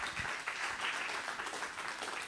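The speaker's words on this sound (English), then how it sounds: "Y'all give Jon-Marc and Michael one more hand clap." A live worship-concert audience gives a short, fairly soft burst of hand-clapping applause that keeps an even level throughout, with no voices over it.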